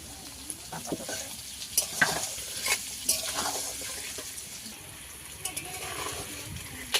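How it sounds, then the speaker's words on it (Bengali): Potatoes seasoned with salt and a little turmeric fry in a pan, giving a steady close sizzle with scraping stirs and a few sharp clinks, while a voice talks intermittently over the cooking. "আলুটাকে ভালো করে ভেজে নেব।"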